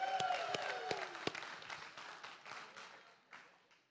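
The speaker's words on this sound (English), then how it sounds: "That was like a lame applause." Scattered church congregation applause, a handful of distinct sharp claps and a thin patter that fades out toward the end, fairly faint and sparse.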